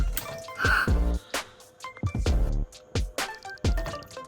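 A toy Whiplash monster truck is dunked and sloshed in a tub of hot water, giving a run of close, irregular splashes and drips with brief pauses between them.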